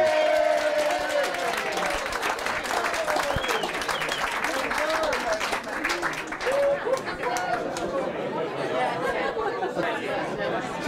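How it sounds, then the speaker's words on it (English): A pudding club audience cheers and applauds loudly for a jam roly-poly dessert, with dense clapping and crowd chatter carrying through the whole stretch. "a big cheer, please, for Jam Roly Poly"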